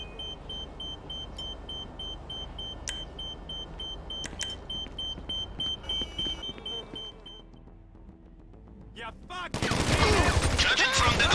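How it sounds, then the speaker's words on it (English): Gunfire in the GTA V Cayo Perico Heist: a bed of engine and ambient noise with a few sharp isolated shots, then a loud burst of rapid automatic fire near the end. "Judging from the gunshots, they have seen you"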